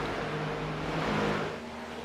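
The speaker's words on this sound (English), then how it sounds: "The 8 of Brody Briscoe has just exited pit lane." A steady engine drone from a race car exiting pit lane at Charlotte Motor Speedway in a racing video game, holding a constant loud hum that eases slightly toward the end.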